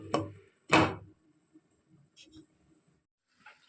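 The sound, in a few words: lid put on cooking pot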